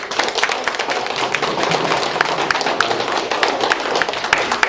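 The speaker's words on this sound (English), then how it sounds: "So let's give Scott another round of applause." An audience gives a speaker a round of applause, continuous dense clapping from many hands, fairly loud and close, with no voices over it.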